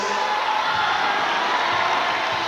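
A steady roar from a basketball arena crowd cheering during a free throw at a 1999-2000 British league game between Edinburgh Rocks and Sheffield Sharks, a dense, unbroken wash of noise throughout.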